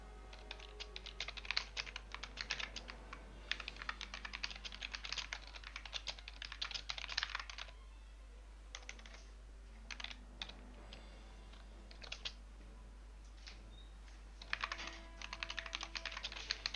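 Typing on a computer keyboard, quick irregular bursts of clicking keystrokes close up, separated by short pauses, over a faint steady low hum.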